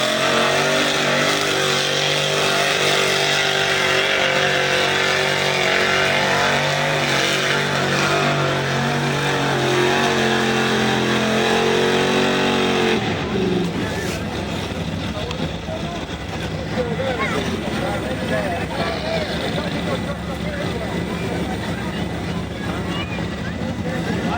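An 1986 Ford Ranger truck running a mud bog, engine roaring loud and strained at high revs for about thirteen seconds before dropping off, followed by lower rumbling engine and crowd noise with voices over a PA.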